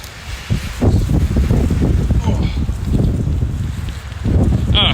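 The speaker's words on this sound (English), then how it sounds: "It's a bit windy." Steady wind buffeting the microphone outdoors, a continuous low rumble with gusts rising and falling throughout.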